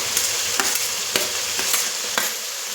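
Beans and chopped vegetables with tomato and chili sizzle in a frying pan for a greens pulao, with steady frying hiss broken by several sharp scrapes of a stirring spoon.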